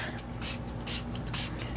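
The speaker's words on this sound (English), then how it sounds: "I'm going to spray the back of this texture up." Spray paint cans hissing in repeated bursts onto the back of a texture sheet, several short sprays close to the mic with brief pauses between them.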